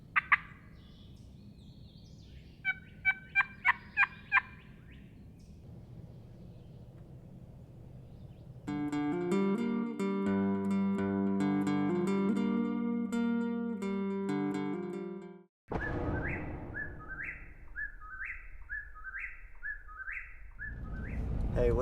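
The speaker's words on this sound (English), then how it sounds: "There's birds hammering today." Outdoor birds call loudly on a spring day: sharp chirps at first, then a dense rich stretch of song, ending in a repeated rising call pattern.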